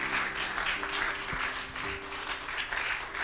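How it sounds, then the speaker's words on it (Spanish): Congregation applause during a Spanish-language church sermon, a steady wash of many hands clapping with a faint low hum underneath, moderately loud and continuous with no talk. "¿Cuánto le dan un aplauso a Cristo?"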